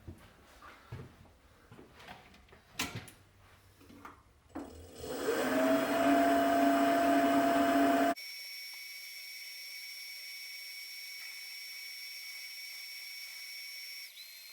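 A metal lathe machining unhardened metal discs for a Rovan 450 XLT upgrade, starting with scattered clanks and taps, then a loud steady tonal whine of cutting for a few seconds before dropping to a fainter constant motor hum.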